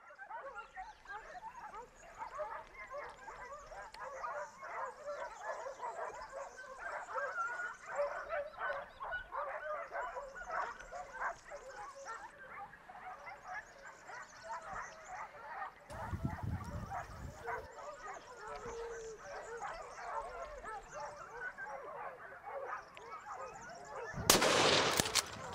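A hunting pack of dogs barking during a Spanish montería in El Lituero, a dense chorus of yips and barks ringing out continuously, with a sharp gunshot-like burst near the end and a narrator speaking over it.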